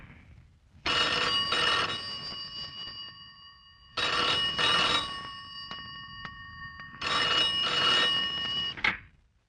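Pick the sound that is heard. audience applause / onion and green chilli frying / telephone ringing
telephone ringing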